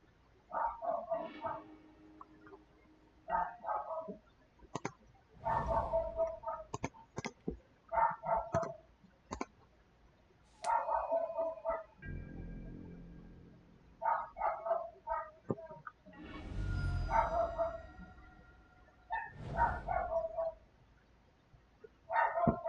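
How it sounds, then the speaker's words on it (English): Dogs barking inside a house in repeated bursts of sharp, loud barks, some yips and a low whimpering stretch between them, irregular rhythm, close by, without talk. "And there are dogs barking in my house,"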